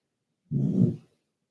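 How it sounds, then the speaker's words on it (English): A sleeping dog gives one loud, low snore, a single close, rough breath lasting about half a second amid silence. "my dog's snoring like crazy now"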